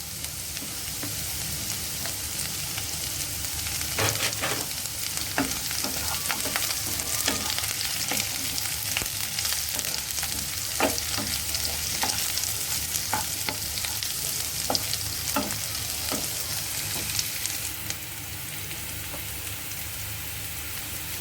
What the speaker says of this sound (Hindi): अब हम डाल रहे हैं इसमें हरी मिर्च